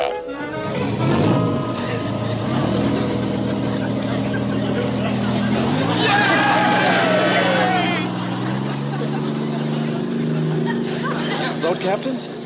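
Boat engines start up and run steadily aboard a Navy PT boat, a loud sustained motor drone with a pitch shift midway, with people talking and chattering over it throughout.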